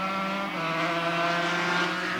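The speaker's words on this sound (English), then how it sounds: "This is an all-British machine out in front with a carbon fibre frame and a British twin-cylinder disc valve engine made up in Bolton." A 350cc racing motorcycle with a British twin-cylinder disc valve engine at a 1984 Donington Park championship race screams past at high revs, a loud steady buzzing whine that holds throughout.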